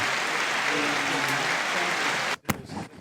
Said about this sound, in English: Can we give a round of applause for Noises?